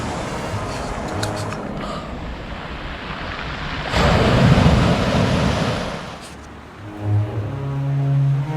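Mediterranean Sea waves wash onto the shore along the Côte d'Azur in steady, breezy surf noise. One louder surge breaks midway, then the water eases back.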